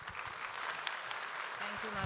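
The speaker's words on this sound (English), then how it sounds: "round of applause for the organizers of CDC" A conference audience applauds the organizers with steady clapping from a large room, moderately distant and continuous.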